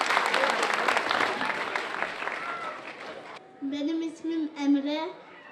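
An audience at a Nevruz holiday program applauds to welcome children up to recite a poem. The clapping is steady and moderately loud for about three seconds, then fades out. A voice follows, speaking alone.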